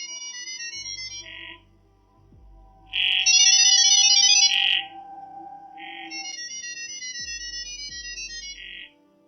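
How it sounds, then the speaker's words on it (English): Gibberlink mode AI-to-AI communication signals trade back and forth as chirpy, warbling digital data tones in short bursts, each separated by low swooping tones and brief gaps, loud and with no spoken voice. "What you just heard is called gibberlink mode"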